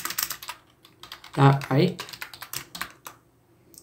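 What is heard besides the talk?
typing on a computer keyboard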